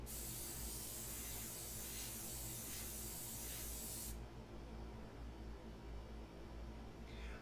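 Badger Xtreme Patriot airbrush spraying: a steady, close hiss of air for about four seconds that cuts off abruptly, leaving quiet room noise, then a brief faint hiss at the very end.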